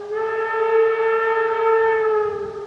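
An approaching steam locomotive's whistle sounds one long, steady, tonal blast at Geesthacht station, rising slightly in loudness and then fading, heard from some distance.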